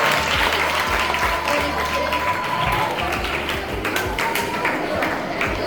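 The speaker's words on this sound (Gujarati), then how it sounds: "આપણે સૌ તાળીઓના ગણરાજ સાથે તેમને વધાવીશું." A school audience at a Sanskrit quiz applauds the winning group with dense, sustained clapping from a crowd, while a voice talks over it.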